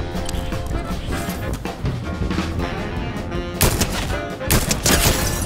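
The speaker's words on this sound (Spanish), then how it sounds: "Escucho disparos por allá." Rapid gunfire crackles in the Fortnite video game, bursts of shots and automatic fire rattling loudly over game noise, with heavier volleys in the second half.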